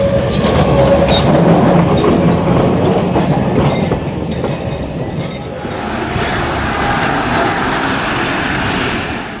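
A Kolkata tram rumbles steadily along its street rails, swaying slowly, a continuous loud low roar with faint clattering, shifting slightly in tone midway as it keeps moving.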